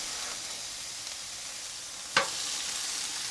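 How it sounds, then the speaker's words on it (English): Food sears on a hot griddle with a steady, close, bright sizzle throughout, and one sharp burst of crackle partway through, without any talking. "I want that hot griddle to help sear some of these"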